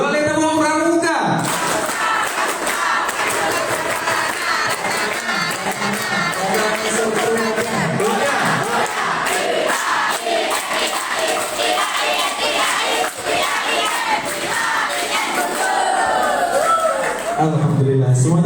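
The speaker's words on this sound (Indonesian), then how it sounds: "2 kali tepuk pramuka." A crowd at a national scouting seminar performs the rhythmic scout clap twice, with loud, patterned clapping mixed with shouted chanting, and voices on either side.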